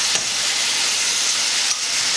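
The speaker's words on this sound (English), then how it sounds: "Let's fry up everything" Sweet peppers and onions frying in a pan, a steady, close, loud sizzle with a couple of brief louder hisses as the food shifts, and no voices.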